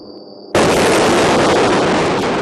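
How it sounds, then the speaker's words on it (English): A single thunderous explosion in Gaza at night bursts in suddenly after a quieter low rumble, then a loud, sustained roar and rumble carries on without easing. "Overnight, a thunderous explosion lights up the sky."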